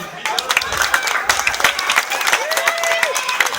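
An audience at a village fair concert claps and applauds steadily throughout, a dense patter of hands with a few whistles rising over it.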